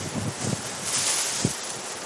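Wind blows steadily outdoors, a broad rushing hiss with a few soft low buffets against the microphone, fairly close and unbroken, with no talking.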